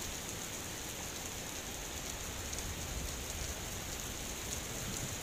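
Heavy rain pours onto a roof during a storm on Gökçeada, a dense, unbroken hiss of drumming water that holds steady and loud throughout.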